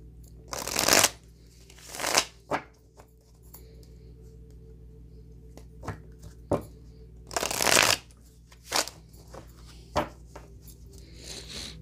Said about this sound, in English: let's pull some cards on these